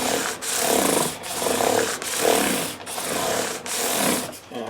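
Fine 600-grit sandpaper rubs back and forth along a maple fingerboard on a Fender Jazz Bass, making soft rhythmic scratchy strokes close by, about six passes with brief pauses between.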